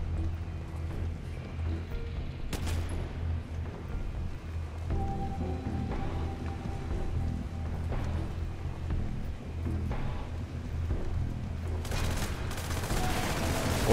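Bursts of rapid gunfire and scattered shots crackle over a steady low background hum in the video game Hatred, with sharp bangs popping out at intervals.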